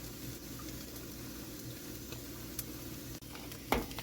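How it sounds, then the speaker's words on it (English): Cooked rice stir-fried in a pan for chicken fried rice, a steady close sizzle with soft stirring scrapes and a sharper clatter near the end. "So we're just adding our cooked rice and mixing it in"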